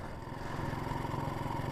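A Honda MB5 motorcycle engine idles steadily up close, a low, even putter with a slight mechanical clatter and no revving, running alone.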